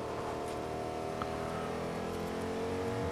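A car in the Fortnite video game drives past, its steady engine drone holding at a moderate level for a few seconds under continuous game ambience.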